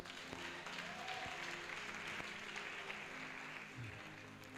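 Church congregation applauding during a worship service, a dense steady wash of clapping from a large crowd with an organ or keyboard chord held underneath, sustained without a break throughout.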